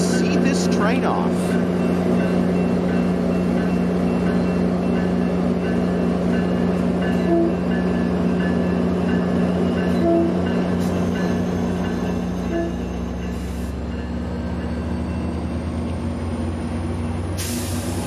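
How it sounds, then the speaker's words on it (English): A train departing Burbank Airport station, heard as a loud, steady rolling rumble with a sustained mechanical drone and hiss, occasional squeals and a faint horn-like tone, close by and continuous for the whole stretch. "let's see this train off"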